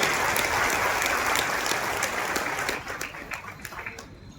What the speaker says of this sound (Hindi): एक बार जोरदार तालियां आप सब लोगों के लिए होगी